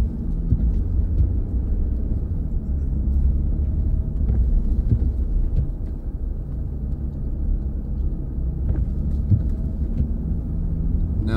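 A 2023 Nissan Frontier on Mickey Thompson Baja Boss tires drives on snowy roads, giving a continuous low rumble of road and engine noise from inside the cab.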